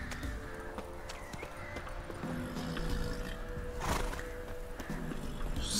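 A horse neighs and its hooves clip-clop in The Witcher 3: Wild Hunt, with a loud whinny near the middle over a steady bed of game ambience and clopping steps.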